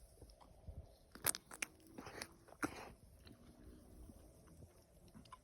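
A large-fruited Rumyana Zorka cherry plum, ripe and juicy, is bitten into close up, giving a few soft, wet crunches against quiet background hiss, with no talking.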